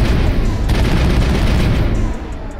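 Continuous automatic machine gun fire in a Mass Effect firefight, loud and dense, a steady barrage of rapid booming shots with no gaps, then easing slightly near the end.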